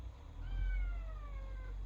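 A house cat meows indoors, one drawn-out call with a falling pitch, close and clear over a low background hum.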